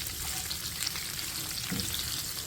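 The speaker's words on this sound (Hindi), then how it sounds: "प्याज को भी थोड़ा सा फ्राई करेंगे इसके साथ।" Sliced onion and chillies fry in a pan for a besan chutney, giving a steady, close, continuous sizzle with light crackle and no talk.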